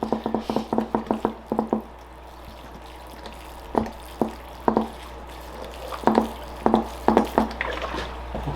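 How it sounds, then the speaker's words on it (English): Water is poured onto the soil of a potted Schefflera bonsai in close, bubbly gurgling bursts, a quick run of them, a pause, then more irregular sloshes and drips. "We'll just get some water in there."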